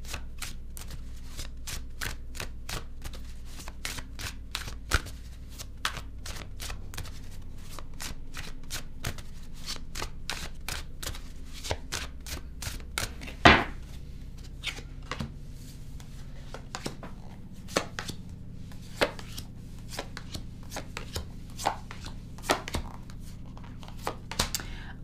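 A deck of tarot cards being shuffled by hand, with dense, rapid riffling and crisp flicks of the cards continuing steadily throughout, plus one sharper snap partway through, close and fairly quiet with no talking.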